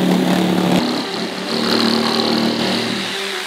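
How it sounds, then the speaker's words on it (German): A jigsaw cuts a circular piece out of a plywood board, giving a continuous buzzing motor whine that holds steady and close for a few seconds with a brief dip partway through. "Und mit einer Stichsäge schneiden wir den Boden unseres Rieseneimers aus."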